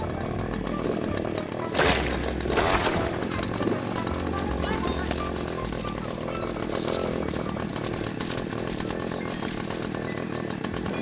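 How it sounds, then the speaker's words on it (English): A chainsaw character in a fruit-dropping video game runs with a loud, continuous buzzing roar that surges and wavers over several seconds under game sounds. "this chainsaw guy, yeah, he makes smoothies, so the hole grows faster"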